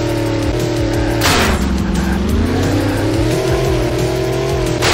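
Kart racing in a metaverse video game, with a loud whining engine whose pitch rises and falls over a continuous roar, and bursts of tire screech from drifting through corners.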